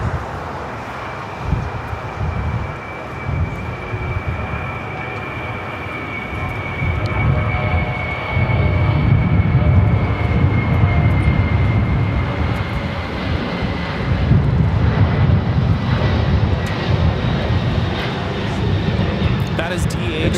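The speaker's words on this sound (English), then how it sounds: "operated by ABX Air, Flight 410, taking off to Cincinnati on the 767-300 converted freighter" A DHL Boeing 767-300 converted freighter operated by ABX Air takes off from Los Angeles airport, its jet engine roar building to a loud sustained rumble with wind noise, while a voice talks over it.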